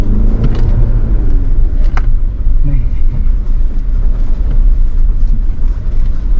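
A Tank 300 SUV drives through mud at an off-road event, its engine a loud, steady rumble throughout with short revving bursts and splashing noise close by.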